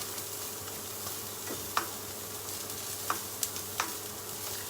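Vegetables for manchow soup sauté in a hot pan with a soft, continuous sizzle, broken by a few sharp scrapes and clicks of a spatula, close and steady with no voices.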